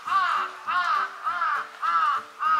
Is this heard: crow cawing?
yes